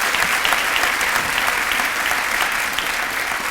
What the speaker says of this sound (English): How about another round of applause for the Peoria High School Jazz Band?